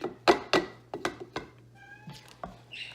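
A house cat meows several times in a kitchen, with sharp, fairly close calls spaced across the moment, followed by a higher, thinner mew near the end over a low steady hum.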